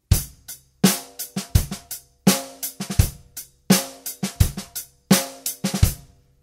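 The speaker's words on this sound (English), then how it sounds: "with that basic pattern, I'll apply doubling the last ghost note" Drum kit groove where the last quiet ghost note on the snare is doubled, heard alone as a steady repeating pattern of strong backbeats with soft snare strokes tucked between them.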